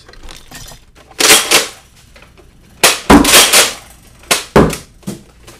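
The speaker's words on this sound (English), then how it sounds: "We're going to start out with 2 shots from the Pyragon. And the Revonix." Nerf Vortex disc blasters, the Pyragon and the Revonix 360, fire in separate bursts: sharp, close snapping clacks with short mechanical rattles, heard as three groups with quiet gaps between them.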